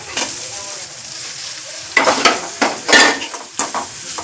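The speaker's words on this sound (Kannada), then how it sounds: "ಫಸ್ಟು ಚೆನ್ನಾಗಿ ಕಲಿಸ್ಕೊಳ್ಳಿ" Garlic paste and tomato stirred in a hot frying pan while making idli Maggi, with scraping, clattering bursts of the spoon over a steady sizzle, close and fairly loud, no talking.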